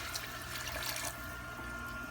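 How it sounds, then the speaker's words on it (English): Marsala wine pours from a bottle into the center of a pan of chicken, a faint, steady liquid splash that runs on unbroken with no talk over it. "we're going to pour it right down into the center"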